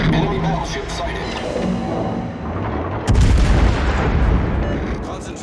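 Naval gunfire in World of Warships from the cruiser Indianapolis: rumbling artillery with a heavy boom about midway that sets off a louder, sustained roar, alongside a game voice.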